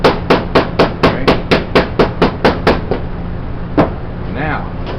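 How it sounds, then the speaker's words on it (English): Hand hammer striking sheet metal over a dolly while forming a wire edge, about eleven sharp, evenly spaced ringing blows close by, then a pause and one more strike with brief faint voice. "you can start hammering in like this"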